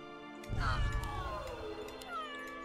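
A cat meows once as it is placed on the board in the tower-defense game Legion TD 2, a clear, close call with a falling, drawn-out tail over game music.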